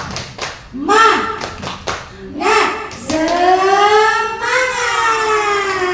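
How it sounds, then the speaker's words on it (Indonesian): A group claps sharp rhythmic bursts in a chant-like pattern, mixed with voices calling out and a drawn-out shouted cheer, loud and close. "Kita sekarang mau tepuk semangat"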